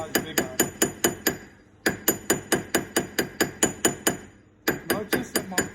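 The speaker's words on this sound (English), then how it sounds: "now I'm going to hammer nice and hard because I want to get it a half a size bigger" A hammer strikes a silver wedding band on a ring mandrel in a quick, even series of loud, ringing metallic blows. The blows come in three bursts, with short pauses between them.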